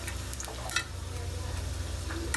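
Food frying in oil in a home kitchen pan, a steady low sizzle with occasional stirring clatter running through the whole stretch, close and moderately loud with no talking.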